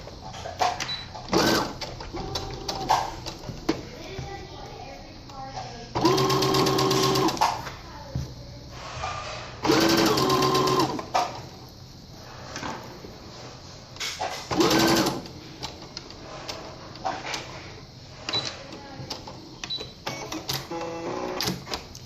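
A sewing machine stitching a felt Christmas gift bag, reversing back and forth in rapid mechanical bursts, with pauses and handling clicks between runs.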